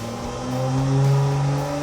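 A turbocharged Chevy 292 straight-six running on a dyno, its loud, close engine note climbing steadily in pitch through a short rev.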